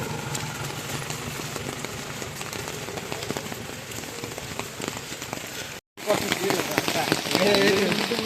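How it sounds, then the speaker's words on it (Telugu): Heavy rain in Kerala drumming on a surface in a dense, steady hiss, with an engine idling underneath; a brief cut, then the downpour returns louder. "ఇక్కడ చూద్దాం భయంకరంగా వాన అయితే పడుతుంది"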